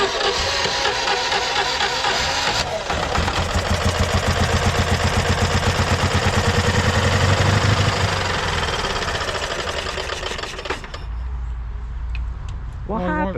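A 1968 Citroën Dyane 6 two-cylinder engine running roughly on one cylinder, a loud steady uneven chugging that swells midway and then drops to a lower idle, with a voice briefly at the end.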